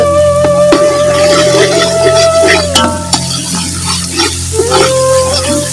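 Whole dried coriander seeds crackle and sizzle loudly in hot oil, with steady frying hiss, occasional sharp pops and a spoon stirring against the pan.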